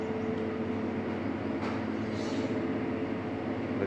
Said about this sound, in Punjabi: ਦੇਖ ਲਓ ਟੋਏ ਟ੍ਰੇਨ, ਮੈਂ ਤਾਂ ਆਪ ਪਹਿਲੀ ਵਾਰੀ ਦੇਖੀ ਆ